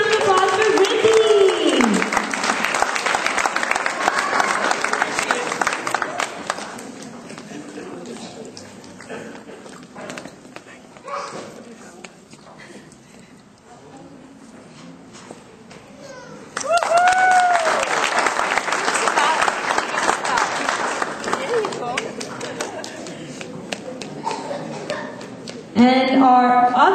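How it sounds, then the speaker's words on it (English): Audience applause at a children's prize-giving, a loud burst of clapping that fades to near quiet midway, then a second strong round of clapping returns. "Let's hear a big round of applause for Riddhi."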